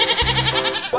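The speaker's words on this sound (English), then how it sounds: "Goat." A short, loud goat bleat, one wavering nasal call heard up close in a cartoon-style animal sound sequence.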